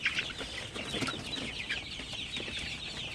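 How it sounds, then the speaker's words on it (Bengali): Sonali super hybrid chicken chicks, shooed around in the evening, cluck softly and continuously in a quiet, close cluster of overlapping peeps and clucks. "সোনালি সুপার হাইব্রিড মুরগির বাচ্চাগুলোকে আসলে একটু তাড়াই দিতেছি।"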